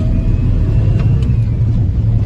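A Suzuki Jimny 4x4 with a five-speed gearbox pulls away in gear, its engine giving a steady, loud low rumble throughout with no clear revving changes.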